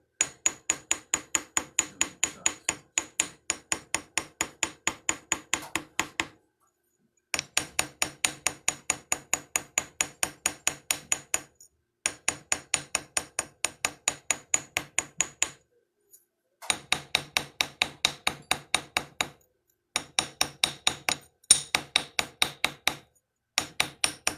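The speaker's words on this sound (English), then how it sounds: "I'm using the ball peen part of the chasing hammer" The ball peen of a small chasing hammer taps fine silver in rapid, even bursts of ringing strikes while forging a chain link, pausing briefly between runs, close and crisp throughout.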